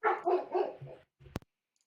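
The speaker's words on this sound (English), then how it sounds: "I hear a dog." A dog or wolves barking in a video game, a quick series of three or four barks followed by a softer whimper and a short sharp click.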